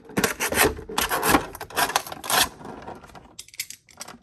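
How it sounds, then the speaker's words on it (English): Crinkly rustling and scraping of stiff plastic packaging, close and busy, in uneven bursts that thin out toward the end. "As I'm making all this noise with the plastic as well."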